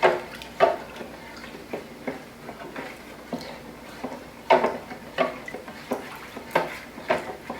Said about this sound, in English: then I'm going to stir it